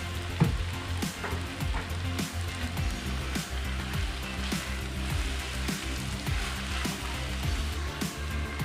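Finely chopped cabbage sizzles and fries steadily in a pan for chicken macaroni, a continuous close crackle with occasional stirring scrapes and no talk.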